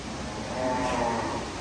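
A cow at the Dutch Dairy farm in Bangladesh lets out a single drawn-out moo that swells in the middle, heard alone against steady barn noise.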